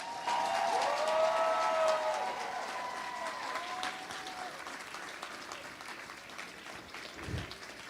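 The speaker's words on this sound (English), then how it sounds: "Please give them another round of applause." An audience applauds medical students at a Match Day celebration, steady clapping that peaks early and then thins gradually, with a faint sustained tone running over it.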